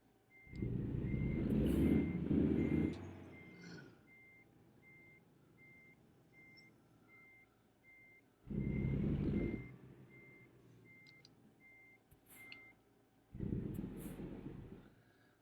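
Steady electronic reversing beeps from a truck in a desert driving video game, repeating evenly across the clip while loud engine bursts rise and fall beneath them.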